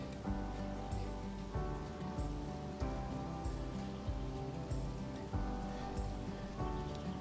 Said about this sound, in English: the rain comes down. The it's it's a rainy morning